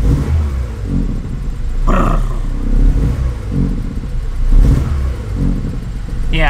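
Honda EF Civic hatch engine idling and revving in short blips, a throaty mid-pitched roar rising and falling several times with a faint whine from the timing belt.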